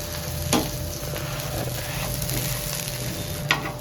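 A dosa crisps on a hot pan with a steady, close sizzle throughout and a couple of brief scraping ticks. No voices.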